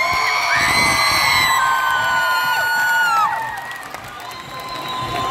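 Concert crowd at Budapest Park clapping, cheering and whooping for a veteran, a loud sustained roar of shouts and applause that fades somewhat toward the end.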